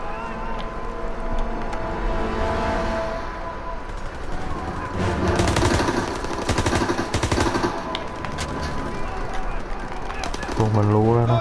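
Machine-gun fire in Call of Duty: WWII, bursts of rapid shots in quick succession mixed with game sounds, while someone speaks between them.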